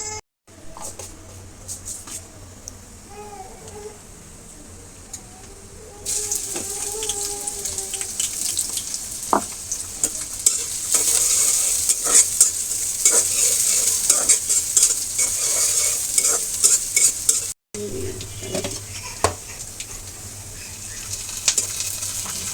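Minced meat fries in a pan with green chillies, first quiet stirring and clinks, then a loud steady sizzle with scraping stirs for most of the stretch, briefly cut off before it resumes.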